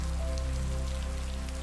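Steady rain patters against a window pane in a cabin, a dense, even hiss with a low hum beneath, continuous and unbroken throughout.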